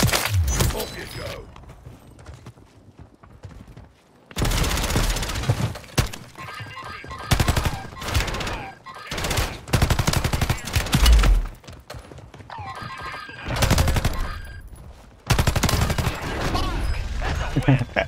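Game gunfire from Fortune's Keep Resurgence, with dense bursts and rapid fusillades broken by brief pauses, mechanical clunks and creaks mixed in, loud and close throughout.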